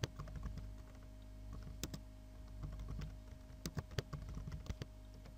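Fingers type code on a computer keyboard while writing a Java Spring program. Close, irregular clicking keystrokes come in quick clusters separated by short pauses, with a few sharper key taps standing out.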